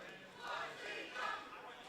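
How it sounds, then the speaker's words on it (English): Standing-room-only crowd at a 1CW pro wrestling event roaring and cheering, a broad swell of many voices that rises and falls in waves, somewhat distant and moderately loud. "And you hear the crowd, 1CW, they are excited."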